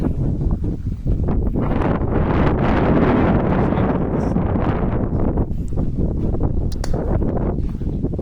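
Steady outdoor wind blows hard and continuously, roaring across the microphone with broadband rushing gusts that never let up, no voices on top.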